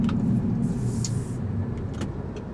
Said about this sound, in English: Wow, a lot of traffic.